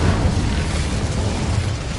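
An Incendio fire spell cast in a Harry Potter video game, a loud roaring burst of flame that stays dense and broad for its whole length, with no talk over it.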